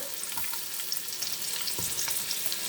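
Fresh garlic and ginger fry in hot oil for a vegetable fish soup, a steady close sizzle with light crackles and the occasional stir, no talk.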